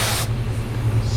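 Spray gun laying a white pearl transition coat onto a car panel, a short loud airy hiss that cuts off quickly, leaving a low steady compressor hum underneath.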